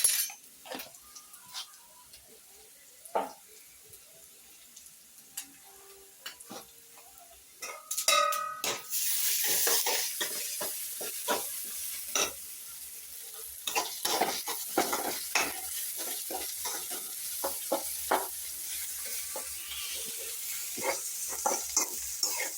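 Soya chunks with masala and garam masala sauté in a pan with a steady sizzle, growing louder partway through, while a utensil scrapes and stirs in frequent sharp clinks and scrapes.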